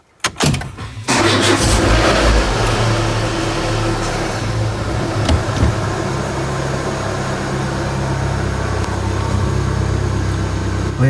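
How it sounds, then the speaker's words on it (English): A 2004 Renault Scenic 1.6 L petrol engine cranks briefly and catches, then settles into a loud, steady running hum for the rest of the clip. "I can start the engine and we can see everything is on now"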